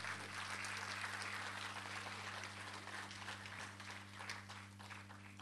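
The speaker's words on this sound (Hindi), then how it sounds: "जोरदार तालियों से अभिनंदन करें" Applause from an audience at an evening music event, a faint, steady wash of clapping heard over a constant low electrical hum, carrying on for several seconds without speech.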